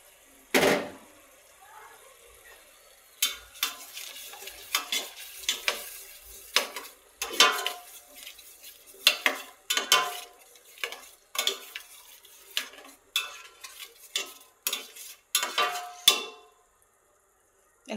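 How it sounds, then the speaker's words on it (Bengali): Spice masala with turmeric, chili powder and yogurt is stirred and fried in a pan, with repeated scraping strokes and a soft sizzle in irregular bursts, close by with no talk. "এখন আমি মশলাটাকে ভালোভাবে কষিয়ে নেব"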